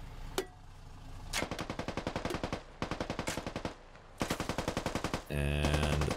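Automatic rifle fire in the military shooter game Squad: a single shot, then several long rhythmic bursts of rapid machine-gun fire with brief pauses, loud and close, ending in a sustained blast.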